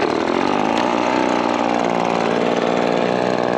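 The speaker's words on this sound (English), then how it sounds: "You take your leaf blower and you just blow the bike off." A leaf blower runs steadily and loudly without pause, blasting water off a Harley-Davidson motorcycle, with a constant droning engine and rushing air and no voices.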